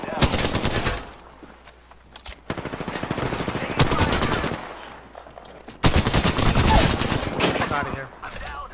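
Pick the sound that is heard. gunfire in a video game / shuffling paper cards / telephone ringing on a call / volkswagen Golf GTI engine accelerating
gunfire in a video game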